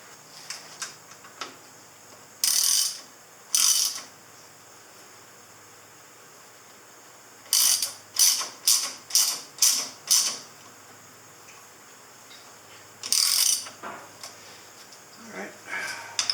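Lock nuts being tightened on a 1983 Honda CB1000 C Custom motorcycle, with bursts of rapid ratcheting clicks from a wrench, some single and some in a quick rhythmic series, close and fairly loud between pauses.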